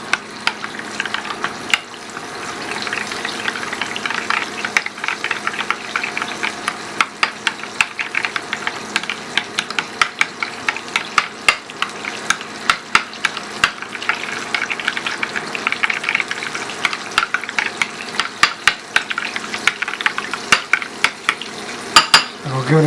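A spoon repeatedly scraping and clicking in a bowl while mixing a hot sauce mixture for a chicken sandwich, a busy, steady rhythm of close taps and swishes.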